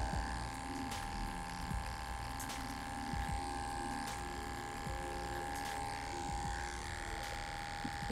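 An electric hair clipper buzzes steadily at close range while cutting a taper fade, with a constant hum and faint shifts as the blade moves through hair, no talking.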